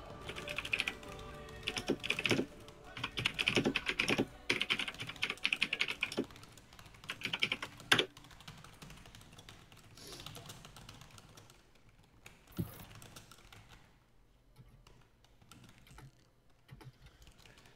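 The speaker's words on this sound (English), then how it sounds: "let me actually do some typing" Rapid typing on a computer keyboard during a Civilization V game session, with bursts of clattering keystrokes, then sparser, quieter taps and occasional single key presses, close to the microphone with no talking.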